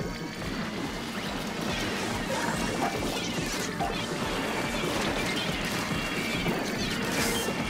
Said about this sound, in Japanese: 爆弾の音する